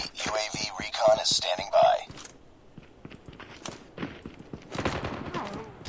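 Gunfire in the Call of Duty Mobile multiplayer video game, heard as a rapid burst of sharp shots followed by scattered, quieter shots and footsteps, with someone talking over parts of it.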